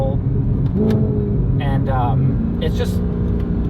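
A manual Audi R8 supercar engine droning steadily from inside the cabin while driving, with someone talking over it.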